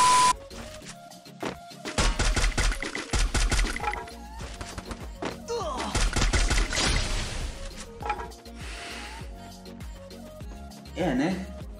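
Rapid gunshots from a weapon in a Garena shooter game, a burst of around fifteen shots fired without recoil shake, crackling and loud over game effects, with someone talking excitedly around them.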